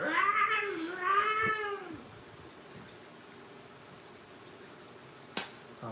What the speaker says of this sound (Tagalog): please welcome one and only Mr. Faithfully, meow.